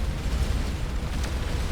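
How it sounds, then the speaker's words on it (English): Plasma cannons in Starcom: Unknown Space pounding an enemy ship's hull, giving a continuous low rumble of explosive bursts with a sharper crack near the end, thick and unbroken. "So that's the plasma cannon. Cannons, actually. Chipping away at the enemy hull."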